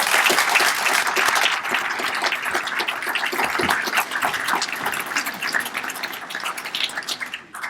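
Sustained audience applause welcoming Donna Sollenberger to the podium at a hospital opening event, a dense steady clapping from a large crowd that holds for several seconds and then begins to thin out.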